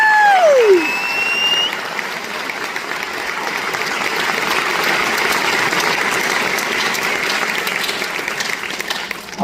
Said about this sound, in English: So let's just give these students an incredible round of applause.